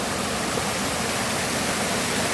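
A steady, loud rush of flowing water fills the whole stretch without a break, like a stream or small waterfall heard close by.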